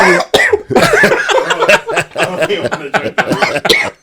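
Repeated harsh coughing fits, close and loud, with bits of chuckling mixed in.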